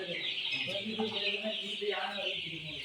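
Chickens cluck and chirp in a busy flock at a poultry farm, with a person talking over the birds throughout.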